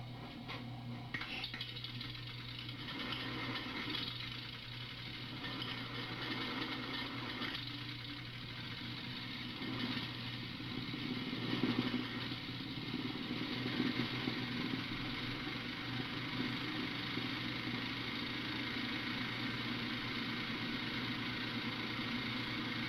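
A small model engine with two plates and three 1.125-inch cylinders is mounted and test run, giving a steady, continuous chugging hum close by that holds even throughout with a slight swell midway.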